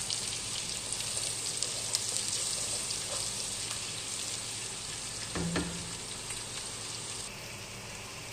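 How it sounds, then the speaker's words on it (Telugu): Dried fish fries in oil with a continuous, close hiss and fine crackling, fairly quiet overall, with a brief stirring clatter about two thirds through. "ఎండు చేప నూనెలో వేసుకుంటే బాగుంటుంది,"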